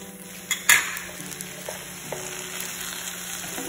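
Pineapple chicken fried rice with scallions sizzles steadily in a hot pan, with a few sharp clinks and scrapes as it is tossed, close and moderately loud with no talking.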